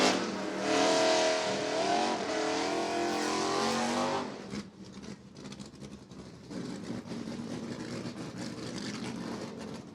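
American muscle race cars revving hard during burnouts before qualifying at a track, a loud roaring engine note for the first seconds, then dropping to a rougher, quieter rumble and distant crowd-like noise.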